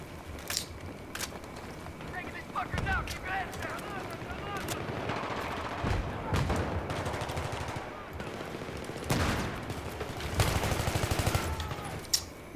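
Rapid automatic gunfire and scattered single shots ring out through a Battlefield 3 firefight, coming in repeated bursts of varying loudness, with someone talking over parts of the action.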